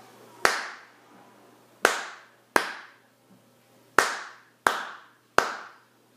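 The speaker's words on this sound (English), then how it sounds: "If I were to clap this rhythm, it would sound like this." One person claps hands in a simple rhythm: six sharp, close claps with uneven gaps for rests, each crisp with a short room decay, alone in a quiet space.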